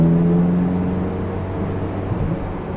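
A Ferrari 360 Challenge Stradale's engine hums loudly close by, its note sagging then jumping as the gearbox shifts into third.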